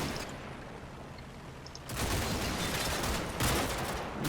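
Battlefield gunfire in Combat Mission Red Thunder erupts after a quieter stretch as a dense, sustained burst of rattling shots, fairly loud, with no voices.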